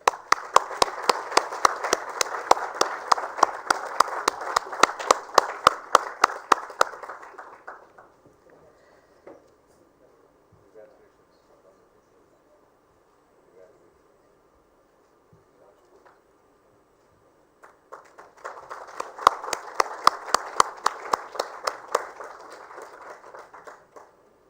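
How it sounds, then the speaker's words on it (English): Audience applause at a sanitation awards ceremony in India, a full round of rhythmic clapping that fades into near silence, then swells again later with another round. "A big round of applause for District Administration"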